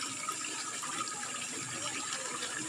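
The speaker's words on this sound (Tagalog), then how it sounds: "Ayan running water." Water gushes steadily from a deep well pipe outdoors, a dense, continuous rushing splash with no break and no talk.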